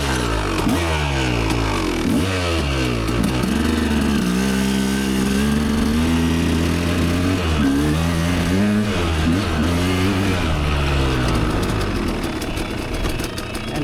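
A dirt bike engine, recently flooded in a river crossing, starts and runs steadily and loudly, its pitch rising and falling in repeated revs throughout.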